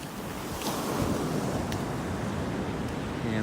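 Ocean surf and wind on Grace Bay Beach in Providenciales, Turks and Caicos, a steady low rumble of waves with gusting wind buffeting the microphone, continuous and fairly close.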